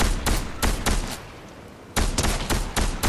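Fortnite gunfire, rapid bursts of sharp loud shots, a cluster of about five at the start, a half-second pause, then another quick volley, close and dry.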